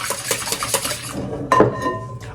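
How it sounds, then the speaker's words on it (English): Wet muffin ingredients are whisked in a bowl with a quick run of rhythmic metal-on-bowl clatters, then a brighter clink and scrape near the end, close and fairly loud. "we're going to go ahead and whisk those together there"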